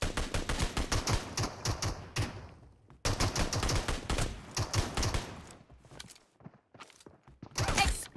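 Rapid automatic gunfire from PUBG Mobile crackles in dense, close bursts for several seconds, pauses briefly, resumes, then drops away before a final sharp volley near the end.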